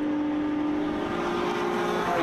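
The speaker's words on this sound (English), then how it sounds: "as it comes down the straight this time, Jack and I are going to try and be quiet and just have a listen to this car because it sounds magnificent." A Porsche 911 GT3 Cup race car runs down the straight at Phillip Island, its engine a sustained droning tone at moderate distance that holds steady through a short pass, with no talk over it.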